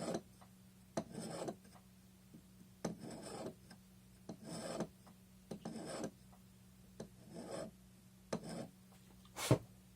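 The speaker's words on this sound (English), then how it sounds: "Make sure it's filed down on both sides." Filing strokes rasp across a wax carving for jewelry, coming in repeated short bursts of scraping with brief pauses between them, close and fairly quiet with no voices.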